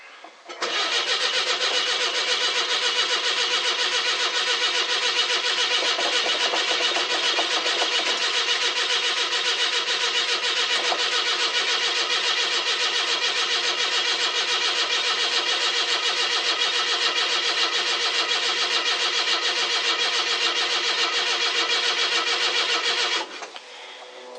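A cranky car engine cranking on a cold start, a long, loud, unbroken rhythmic starter whir that runs for over twenty seconds without catching, then cuts off abruptly.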